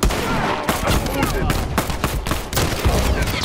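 A grenade explosion in The Last of Us multiplayer, heard amid a dense, loud stretch of game combat with rapid gunfire and crackling blasts, and a voice briefly audible over the din.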